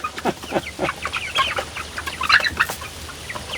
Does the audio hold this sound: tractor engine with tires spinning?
no